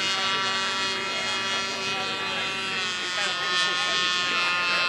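A UC Davis model airplane at an SAE Aero Design contest drones steadily overhead, its engine a continuous buzzing tone with shifting harmonics as it throttles back, with commentary voices running beneath.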